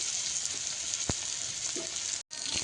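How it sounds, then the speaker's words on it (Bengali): Chopped onion and crushed garlic frying in oil in a wok, giving a steady, close, even sizzle that cuts out briefly near the end before resuming. "কড়াইতে তেল দিয়ে দিয়েছি একটু পেঁয়াজ কুচি আর সঙ্গে রসুন থেতো"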